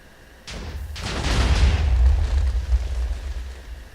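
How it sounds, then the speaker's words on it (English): Several video game explosions in a puzzle map: a sharp blast onset followed by a second burst, then a loud, sustained rumbling roar with deep low-end boom that holds and slowly tapers. "there was a bunch of explosions, but none of the explosions actually hurt me"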